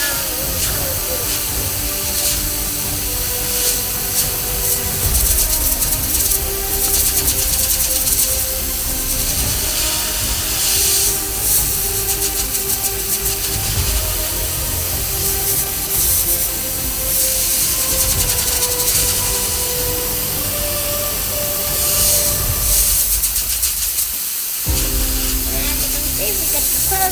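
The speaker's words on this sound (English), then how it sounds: "The steam is very fierce, so that's why you can hear the sound when it's coming through." A fierce jet of steam from a steam cleaner hisses loudly and continuously while cleaning jewelry, with brief dips and a short break before the hiss resumes, and talking is heard over it.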